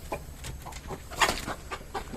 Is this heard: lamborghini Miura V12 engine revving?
no